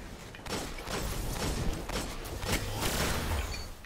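Video game gunfire crackles in a dense, continuous run of repeated shots over a noisy mix, fairly loud throughout with several sharper hits standing out.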